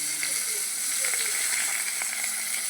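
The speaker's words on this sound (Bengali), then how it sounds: "অল্প নুন দিয়ে আলুটাকে আমি এক মিনিটের মতন ভেজে নেব" Potatoes with a little salt fry in a pan while preparing a thin bata fish curry with raw banana, a soft continuous sizzle and hiss close by, with a voice speaking faintly over it.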